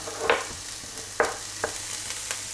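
Onion and garlic sautéing in olive oil give a quiet, steady sizzle, broken by a few short scraping stirs from a spoon in the pan.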